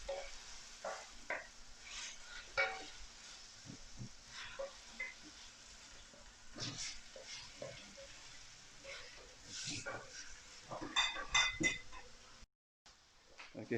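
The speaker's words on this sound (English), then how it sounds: "Stir it." Cauliflower stir-frying in a pan, quiet sizzling with repeated clinks and scrapes of a utensil stirring against the metal, fairly close and intermittent, no talking.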